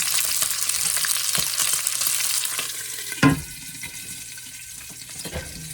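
Food frying in a pan until crispy for a creamy potato soup, a loud close sizzle that quiets after a sharp clatter near the middle and continues as a softer fry.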